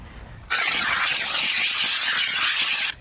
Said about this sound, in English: after you steam the leather